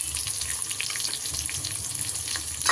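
Sliced onions sizzle in a pan for parotta kurma while being stirred, a steady close frying crackle with small scraping bumps.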